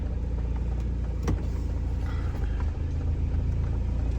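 A van engine runs in extreme winter cold with a steady low rumble, idling roughly and continuously at moderate loudness with no talk over it.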